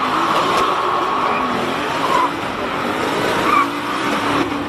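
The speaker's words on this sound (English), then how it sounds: "I think he's trying to destroy his rear tyres." A race car at a hill climb spinning its rear tyres, giving a steady loud engine drone with rising squeal-like tones near and continuous through the clip, with a commentator's voice faintly mixed in.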